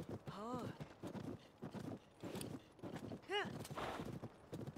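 Horse hooves clip-clop in Zelda: Tears of the Kingdom, a short run of steady steps sitting under a talking voice and game music, with a brief neigh mixed in.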